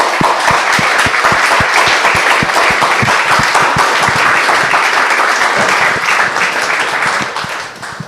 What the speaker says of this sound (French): Un torrent d'applaudissements pour eux.